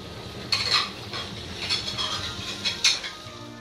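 Shallots and kaffir lime leaves sauté in a pan, with a steady sizzle under repeated scraping strokes of a utensil stirring against the metal, loud and close.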